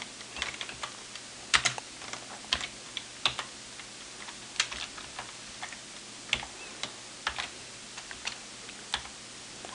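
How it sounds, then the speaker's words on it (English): Typing code for an Erlang program on a computer keyboard, a steady run of close, soft key clicks with uneven rhythm and occasional louder taps, alone with no talk. "First let me just type it."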